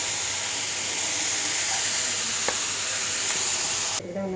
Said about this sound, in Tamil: இப்போ கீரையும் இதில் போட்டு வதக்கிக்கலாம் லைட்டாக.